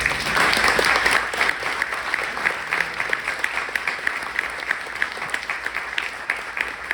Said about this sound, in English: One more round of applause, please, for John Sayles.